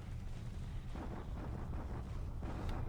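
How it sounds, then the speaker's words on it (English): Muffled explosions from a bombardment in a World War II strategy video game set in December 1941 near Manila, heard as a steady low rumble with several soft booms and no talk. "Bombardment did no damage."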